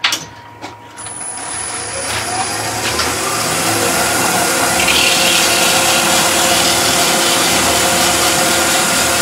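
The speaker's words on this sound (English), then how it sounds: "And again, we're just going to sand that little nib away." Sandpaper rubs steadily against a spinning wooden German smoker piece on a lathe to take off a small nib, producing a loud, continuous abrasive hiss over the motor's hum.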